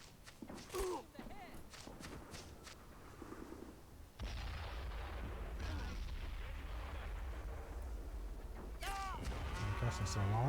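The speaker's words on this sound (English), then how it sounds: "cannons are now shooting at me" Artillery cannon fire in the real-time strategy game Men of War Assault Squad 2, Operation Overlord mission, with deep booming blasts and rumbling battle noise under ongoing talk throughout.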